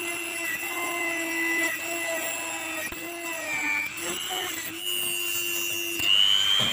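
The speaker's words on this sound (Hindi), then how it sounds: "बाकी हमारा स्क्रू वगैरह भी कट कर सकता है जैसे कि अभी मैं आपको दिखाता हूँ।" A mini die grinder cuts through a screw, giving a steady high-pitched motor whine with bright layered overtones that shifts pitch slightly as it bites into the metal. The grinding is loud and continuous throughout.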